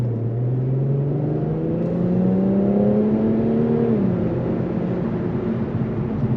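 An Infiniti Q50 Red Sport 400 in sport mode pulls away hard from a gas station, its engine note climbing steadily for about four seconds before a drop at the shift, loud and close from inside the cabin.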